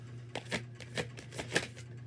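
Tarot cards are shuffled by hand in a quiet room, a faint series of soft riffling, slapping bursts coming about twice a second, close by with no voices.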